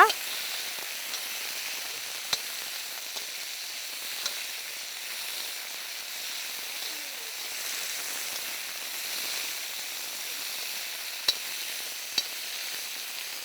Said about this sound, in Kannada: ಇವಾಗ ಒಗ್ಗರಣೆ ಜೊತೆ ಈ ಹಾಗಲಕಾಯಿನ ನಾವು ಚೆನ್ನಾಗಿ ಫ್ರೈ ಮಾಡ್ಕೊಳ್ಳೋಣ